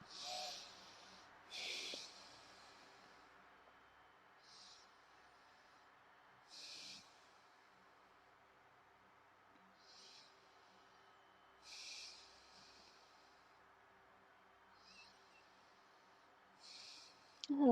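Soft, faint breaths recur every few seconds in a quiet room during a gentle beginner yoga warm-up, each breath a brief airy hush.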